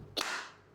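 One crisp hand clap from students in a classroom, a sudden sharp crack that quickly decays into room echo, fairly faint and alone.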